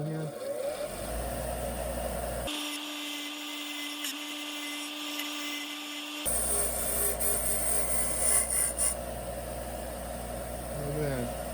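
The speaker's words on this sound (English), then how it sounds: "Turn on my wire wheel here." A bench wire wheel spins against bolts from a 2000 Mercury 25hp outboard, giving a steady mechanical whir with a brighter scraping rasp in the later part, close and moderately loud.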